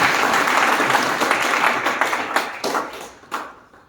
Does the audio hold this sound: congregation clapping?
yes